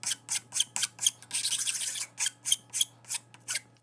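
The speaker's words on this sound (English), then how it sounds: "Now I'm gonna put this in the vise and just file the edges so they don't look as wonky" Metal edges held in a vise are filed by hand, a close, crisp series of about a dozen rasping strokes in a steady back-and-forth rhythm with one longer drag in the middle.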